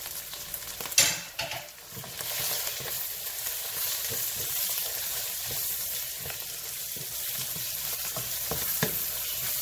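Liver fries in a pan with lightly browned garlic, giving a steady close crackling sizzle with a sharp clatter early on, then an even hiss with faint stirring scrapes.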